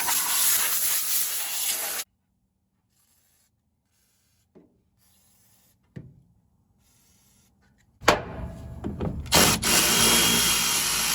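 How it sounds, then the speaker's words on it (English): Compressed shop air hisses in strong bursts while dirt is blown off a Nissan Titan fuel tank. One loud blast is followed by near silence with a few faint knocks, then a second burst in several pulses. "If you have some shop air, go ahead and blow everything off here the best you can."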